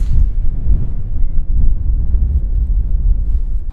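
Wind gusting across a golf course on a short par-four hole, a steady loud low rumble buffeting the microphone throughout with no talk.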